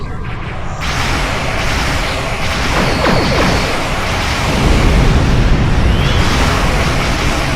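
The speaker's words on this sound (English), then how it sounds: "Computer, arm all weapons and fire!" Starship weapons fire in a sustained, loud barrage of energy blasts and rumbling explosions with sweeping whines, a dense wall of sound throughout.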